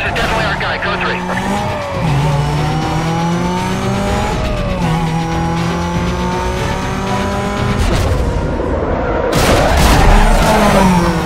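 Cars in a police pursuit in the video game Need For Speed Most Wanted, with engines revving, tires squealing and skidding, and a loud crash impact near the end, under steady radio chatter.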